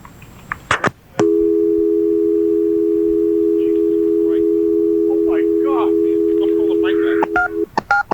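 Telephone line after the caller hangs up: a few sharp dialing beeps, then a loud, steady dial tone holding for about six seconds, with faint talk over it and more beeps at the end.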